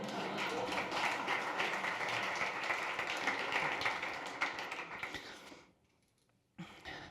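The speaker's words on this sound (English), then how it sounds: "You can applaud now." A live audience at a summit talk breaks into dense, steady applause that carries for several seconds and then fades quickly to near silence, with a brief knock at the end.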